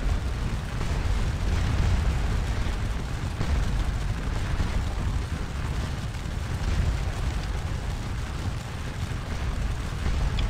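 Skirmishers fire muskets in the Napoleonic battle game Scourge of War Waterloo: a dense, unbroken roar of overlapping shots and rumbling booms, loud and continuous throughout.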